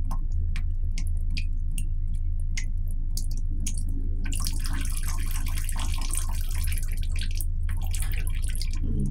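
A weak trickle of water drips from a household tap late at night under low municipal water pressure, with scattered faint drip ticks and a steadier thin splashing flow that strengthens midway, over a constant low background hum.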